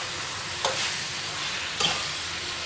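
Karahi gosht, meat frying in a pan, giving a steady hissing sizzle with two brief scrapes of stirring.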